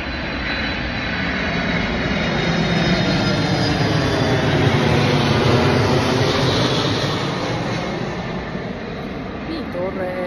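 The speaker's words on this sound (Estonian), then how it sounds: "Näete, meditatsiooni lennuk tuleb." Airplane passing over a house, a broad jet roar that swells toward the middle and slowly fades, loud and steady throughout with no voices.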